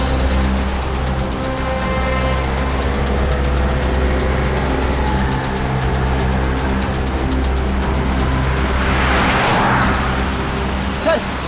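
A car driving away, heard as a loud, steady engine and road rumble that drones on without a break for the whole stretch, with a faint rise in hiss near the end.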